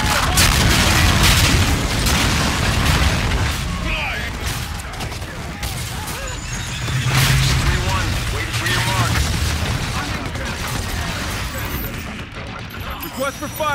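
Heavy artillery explosions boom repeatedly in Call of Duty: Infinite Warfare, a dense, loud barrage of deep blasts and rumbling impacts that continues throughout, with radio-style voices calling out over the shelling.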